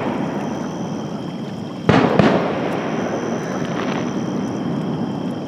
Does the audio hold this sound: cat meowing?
no